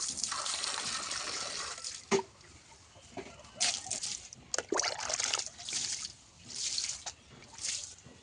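Water poured and splashed over a small pet bird during a bath, with intermittent trickles, drips and gentle splashes in bursts, fairly close, with faint voices in the background.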